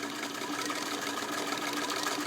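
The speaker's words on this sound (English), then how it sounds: "I'm going to start with my needle down and just let her sew." A Singer 66 Centennial all-metal sewing machine sews heavy fabric in a steady, fast mechanical chatter at a constant pace, close and fairly soft, with no voices.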